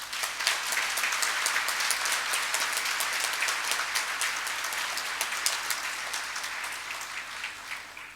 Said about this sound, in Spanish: para los cuales pido un aplauso